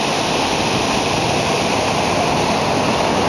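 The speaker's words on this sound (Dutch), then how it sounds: "het is hier gewoon volledig overstroomd" Floodwater from the 2004 Sri Lanka tsunami rushing over what should be dry beach, a loud, dense, unbroken roar of churning water, close and steady throughout with no voices.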